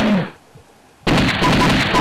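Gunfire from The House of the Dead arcade shooting game, played without music: a loud burst of shots, a short near-silent gap, then a sustained close barrage of rapid gunfire.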